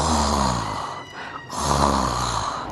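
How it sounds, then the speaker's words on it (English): Rhythmic snoring of people asleep in their beds, loud and close, with two long rasping breaths separated by a brief quiet pause. "He could hear them snoring in their beds."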